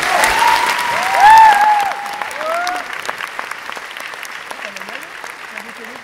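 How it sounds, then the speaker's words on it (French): Applause breaks out at a post-screening film talk, a burst of clapping that thins and fades out over several seconds, with voices talking and exclaiming over it early on. "On peut l'applaudir, pardon."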